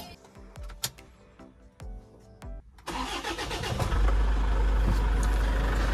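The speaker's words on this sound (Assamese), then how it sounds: "মই এবাৰ ষ্টাৰ্ট কৰি শুনাই দিওঁ আপোনালোকক ইঞ্জিনৰ চাউণ্ডটো কি কণ্ডিশ্যনত আছে" A used Toyota Innova seven-seater has its engine started: a few light clicks and knocks, then the engine catches and settles into a smooth, steady idle close by.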